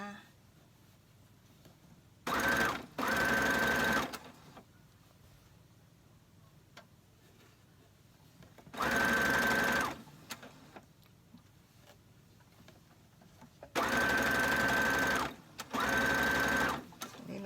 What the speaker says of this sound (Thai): จับเย็บเลยเราไม่เนาแล้วค่ะ จะได้ไม่เสียเวลา